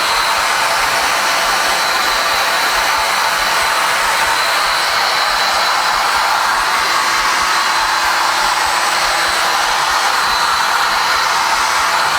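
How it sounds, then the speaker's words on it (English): A heat gun blows steadily over a galaxy resin pour on TV trays, giving a loud, even hiss and whir that runs without a break, with no voices. "You just got to keep that heat gun going, otherwise you're going to burn your resin."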